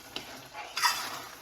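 A spoon stirring Italian pomodoro tomato sauce with sugar and salt in a pot, two or three short close scraping swishes over a faint background.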